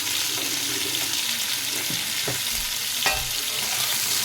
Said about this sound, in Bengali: লবণটাকে ভালো করে নাড়িয়ে নেব।